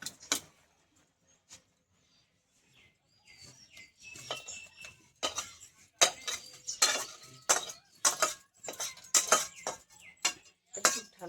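Boiled tomato and beet pulp is pressed through a sieve, giving soft scraping and clinking of metal against a bowl in irregular bursts that grow busier and louder toward the end, with faint birds chirping in the background.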